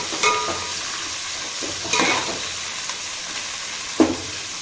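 Chopped onions lightly frying in hot oil for a home-cooked biryani, with a steady soft sizzle broken by a few distinct scrapes and clacks of stirring, close up and without talk.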